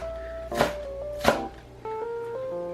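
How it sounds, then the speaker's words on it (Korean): A knife slices green onion lengthwise into thin strips on a cutting board, with two distinct, close cutting strikes followed by quieter handling sounds. "이런 넓적한 면만 길게 놓고 길게 썰어 주시는 거예요."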